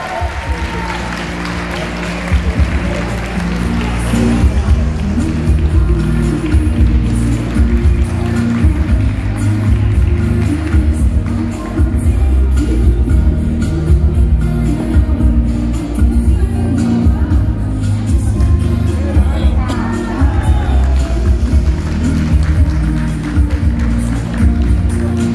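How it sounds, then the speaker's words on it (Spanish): Audience applause and cheering greeting the new L'Bel brand ambassador, actress Erika Vélez, at a launch event; dense, sustained clapping with crowd noise runs steadily throughout, strong in the low range, with no clear speech over it. "Recibamos un aplauso bien fuerte,"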